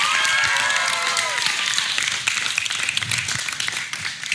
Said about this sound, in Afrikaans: Julle gaan eers vir julle ouers 'n hande klap gee en cheer so hard soos wat julle kan.